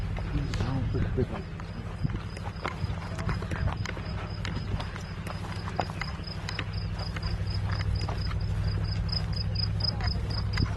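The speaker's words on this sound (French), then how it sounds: "On entend les petits grillons là." Faint, steady high-pitched chirping of crickets runs throughout beneath a low hum and scattered soft clicks, distant and continuous.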